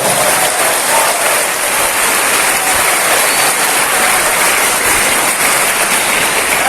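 Applause for the village head at a building inauguration ceremony in Sidoarjo, a loud, dense and continuous crowd clapping that sounds like a steady roar, with no speech over it.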